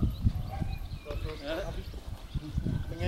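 A horse's hooves clip-clop in a rhythmic series of soft knocks, heard close by beneath ongoing talk and background noise.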